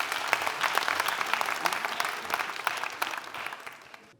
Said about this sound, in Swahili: Pigeni pia Katelo makofi.